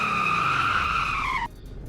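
A car in the Roblox game Greenville, with five gears and a top speed of 110, brakes hard with a loud, sustained tire screech lasting about a second and a half, then cuts off leaving a low engine rumble.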